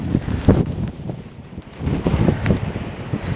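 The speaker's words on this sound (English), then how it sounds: "it's so cold and windy" Cold, strong wind gusting outdoors after a stormy night near a railway viaduct, buffeting the microphone in a continuous rumbling roar that swells and eases.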